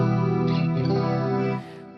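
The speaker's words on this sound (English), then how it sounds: "I love this effect because give me a huge ambient." A Fractal FM9 guitar processor rings out sustained, layered guitar tones drenched in a huge ambient reverb, shimmering and swelling before the wash fades down near the end.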